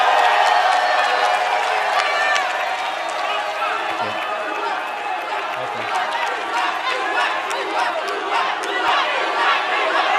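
A large crowd of supporters at the second Jakarta gubernatorial election debate (Pilkada DKI) claps and cheers loudly and continuously, with shouts and chatter mixed throughout the roar.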